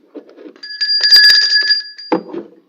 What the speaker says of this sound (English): now you can ring the bell for yourself.